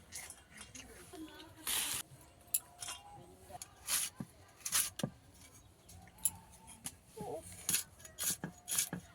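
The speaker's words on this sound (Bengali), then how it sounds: "বাঁধাকপিগুলো আমি এইভাবে সব কেটে নেব" Fresh garden cabbage is cut finely with a knife, giving a series of sharp, close chopping taps on a board in uneven bursts, with dish and utensil clinks mixed in.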